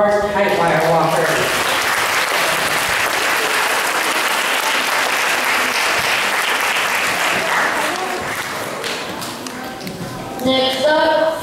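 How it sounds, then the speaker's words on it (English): Loud, sustained applause from the audience at a school circus show, with a crowd clapping steadily for about ten seconds before it thins out, and an announcer's voice starts over the clapping at the edges. "let's give a bigger round of applause for our tight wire walker"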